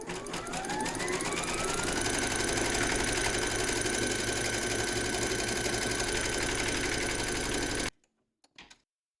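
An embroidery machine stitches a round through batting taped in the hoop, a fast steady mechanical chatter with a rising whir that runs loud for about eight seconds, then stops, followed by a couple of faint clicks.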